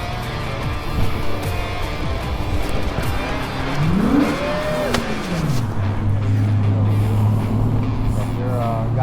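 A short-wheelbase gasser drag car with a big block Chevy engine and Vespa body, a former US30 racer, roars loudly throughout, its revs climbing and falling in pitch alongside a steady rumble, with voices faint beneath.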